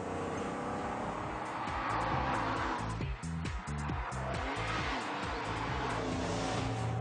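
A 350 bhp TVR sports car engine roars loudly and close throughout, with a deep, pulsing exhaust note that rises and falls as the throttle changes.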